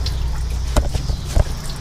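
Coolant water draining from a 1968 Chevrolet Impala onto a garage floor, a steady trickle under a low hum, broken by a few distinct splashy drips.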